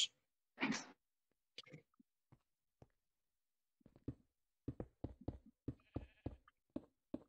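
Sheep in a video game bleating, one loud bleat near the start followed by scattered short knocks and a quick run of clipped bleat-like calls, all set against silence.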